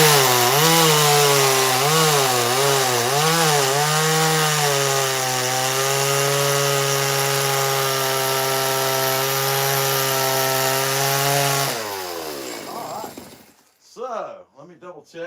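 A chainsaw carving wood roars loud and close with a sustained engine whine that wavers early, then cuts off and spins down to sputtering idle knocks.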